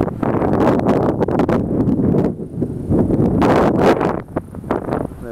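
Heavy wind buffeting the microphone outdoors near misty mountains in Japan, a loud continuous rumbling roar with gusty surges and no voices.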